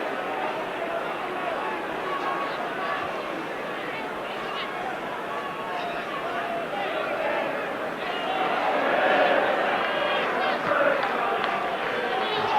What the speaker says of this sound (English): Jeremy Goss gets a very good hand from the crowd